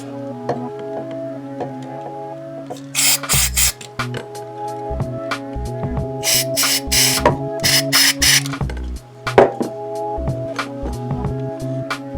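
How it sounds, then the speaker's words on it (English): Several short bursts of electronic spray cleaner hiss over a steady electrical hum, with some clicks and rattling between sprays, while cleaning noisy old pots on a Greco electric bass. "So what I'm going to do is spray it out. Electronic spray cleaner."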